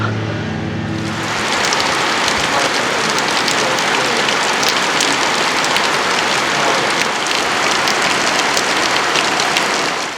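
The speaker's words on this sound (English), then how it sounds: "looks like the heavy rain is over with" Heavy rain pours down steadily during work on a 1997 Land Rover, a dense loud hiss of drops drumming on a surface, close and unbroken for the whole stretch.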